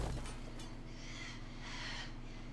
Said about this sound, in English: Seems that the birds are out.